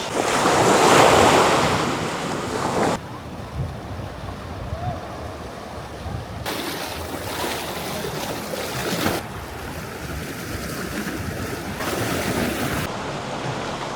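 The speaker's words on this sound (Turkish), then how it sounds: "Biraz rüzgar var. Deniz bize şarkı söylüyor." Sea waves wash steadily onto a short white-sand beach with some stones at the water's edge at Gökçetepe Nature Park in Edirne, under heavy wind buffeting the microphone, loud and continuous, without voices.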